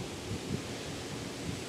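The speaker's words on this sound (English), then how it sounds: "it's really windy today" Strong wind blowing outdoors, a steady broad rushing roar with gusty low rumble and microphone buffeting throughout, no voices.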